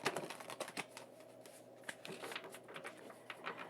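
Spirit animal oracle cards riffled and shuffled by hand, a quick run of close, crisp flutters and taps in uneven bursts, quiet and alone.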